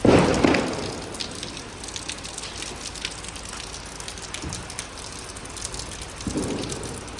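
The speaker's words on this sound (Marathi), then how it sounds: "हा बघा पाऊस किती पडतोय" Rain pours steadily in a continuous hiss, with a couple of louder low rumbling bursts near the start and end.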